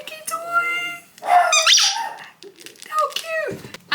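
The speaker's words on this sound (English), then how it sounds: "She also bought George a little squeaky toy." A small squeaky dog toy squeaks several times in short squeezes, close and loud, with brief pauses between them.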